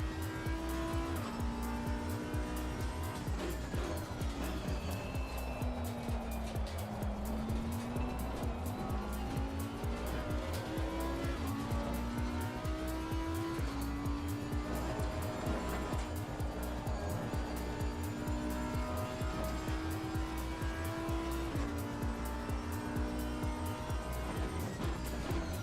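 Race cars on a large grid in the Assetto Corsa Competizione racing game, engines droning steadily with gear changes while tires squeal and slide through a corner, continuous and loud with no talk.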